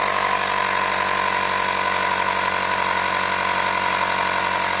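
Homemade air compressor built from a gas cylinder runs steadily and loudly on its own, a continuous motor drone with a rapid mechanical pulsing throughout, no talk.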